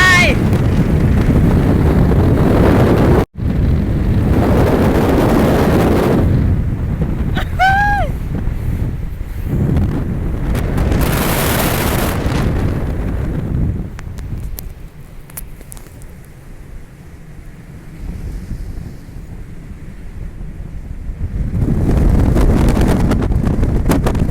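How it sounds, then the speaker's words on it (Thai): Strong wind buffets the microphone atop an observation tower by the Danish sea, roaring in heavy gusts that ease midway and build again, with someone talking over it. "โอ้โหพี่น้องลมแรงคักแห้งคักอีหล้ ลมพัดปิวนี่"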